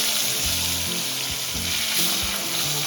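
Pieces of rui fish sizzle steadily in hot oil in a pan, a constant frying hiss with occasional stirring and shifting sounds, close and even throughout, with no voices.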